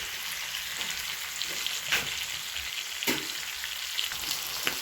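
Fish and curry leaves fry in a pan with a steady, dense sizzle and crackle, with occasional louder pops and spits breaking through, close and continuous with no talking.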